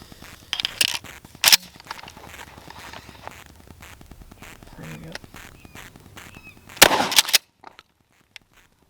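Two loud bursts of Mossberg 590 shotgun fire with number 4 buckshot at an outdoor range, a blast near the start and another near the end, with faint footsteps and handling noise between.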